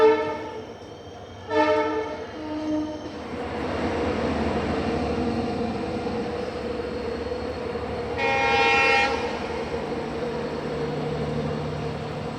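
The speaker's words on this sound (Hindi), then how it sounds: "तो अभी हमारे ट्रेन को 2 ब्रेकर लोकोमोटिव अटैच किए जा रहे हैं।" Two banker locomotives are coupled to the Poorna Express at Castle Rock station, with loud tonal horn blasts near the start and again later over a continuous diesel engine rumble close by.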